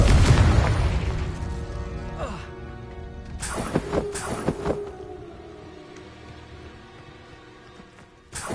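Confringo spell blasts in a Harry Potter game: after a fading tone, several sharp, loud explosive bursts crack out in close succession around the middle, then the sound settles into a quieter, lingering hum.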